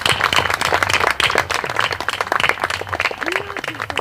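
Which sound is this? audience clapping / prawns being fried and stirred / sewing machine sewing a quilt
audience clapping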